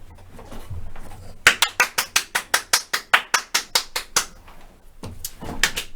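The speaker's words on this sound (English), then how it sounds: "That's that good applause" Applause played on a radio show: a rapid series of about sixteen evenly spaced sharp claps, crisp and close, set between stretches of quieter background sound.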